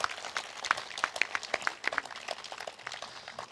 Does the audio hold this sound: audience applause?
yes